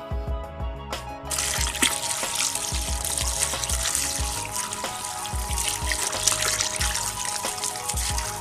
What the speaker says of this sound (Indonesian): selanjutnya cuci terong hingga bersih. Pastikan benar-benar bersih.